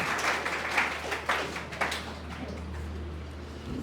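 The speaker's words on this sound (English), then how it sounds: "clap for him" Brief scattered clapping from a small group at a group discussion on black money in India, a few claps bunching up early before thinning out over a steady low hum.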